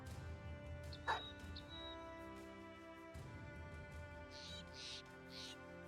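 Dog in the video game Battle Brothers giving a single short bark and a few faint yips, quiet and distant over a steady game soundtrack with brief high chirps.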